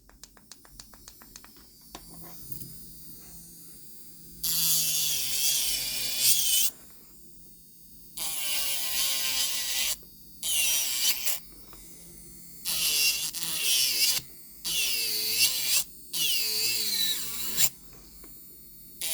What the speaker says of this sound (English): I just go ahead and take my little drill here, and I'm going to get to work.